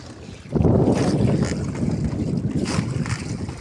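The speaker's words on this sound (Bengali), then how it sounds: "খুব কাছাকাছি জাহাজ চলে এসছে" A ship passing very close to a fishing boat that is laying nets on open water: a steady, loud low rumble of engine and wind noise that swells in and holds, with no talk.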